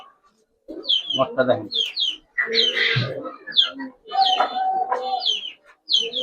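Pigeon cooing and soft calls from old-bloodline giribaz and coloured pigeons at a market sale, heard in close bursts between and beneath people talking and bargaining.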